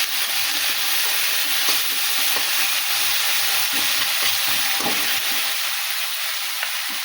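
Garlic, curry leaves and green chili paste stirred steadily in a hot pan, with a loud continuous sizzle and frying hiss and soft scraping strokes, close up and without any talk.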